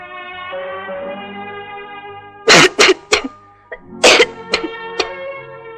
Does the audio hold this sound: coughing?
yes